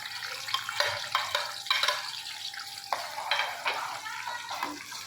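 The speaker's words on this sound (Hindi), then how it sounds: "अब इन प्याज को हमने ब्राउन करना है।" Onions frying in hot ghee for a beef yakhni pulao, with a steady sizzle under repeated stirring and scraping of a spoon in the pot, close and fairly loud throughout.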